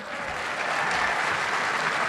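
An audience applauds Rex Nelson at a crowded Little Rock Touchdown Club luncheon, a dense, steady wash of many hands clapping that swells slightly and carries on for a couple of seconds.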